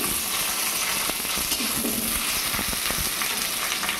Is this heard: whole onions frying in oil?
yes